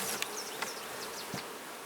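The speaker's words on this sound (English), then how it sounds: "There are a lot of bees on there." Honey bees crowd a hive frame during an open inspection without gloves, giving a steady, close insect hum with a few faint passing buzzes and no voices.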